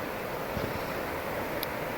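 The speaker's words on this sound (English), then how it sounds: "You can hear the wind and the river in the background." Steady rushing of the Logan River and wind in Logan Canyon on a dry August morning, an even, moderate wash of flowing water noise with no voices.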